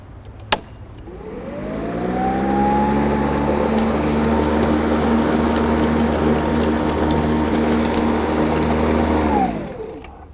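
Toro battery-powered self-propelled lawn mower starting up after a click, its electric motor rising to a steady loud hum with harmonic whine, holding for several seconds and then spinning down, with no talking.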